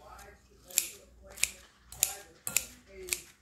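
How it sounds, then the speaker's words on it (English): Zucchini noodles for a creamy avocado salad are snipped with kitchen scissors, giving five crisp, close cuts at a steady pace about two thirds of a second apart. "I cut my zoodles up"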